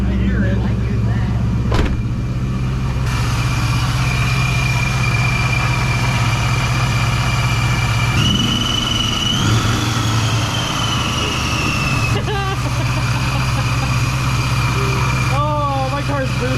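A supercharged Ford Mustang GT V8 engine (Vortech V3-SI) idles loudly and steadily up close with a deep rumble, a whine rising briefly in the middle, and people talking over it.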